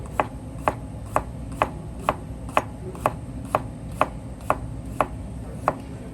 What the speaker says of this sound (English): You want to slice your garlic, okay?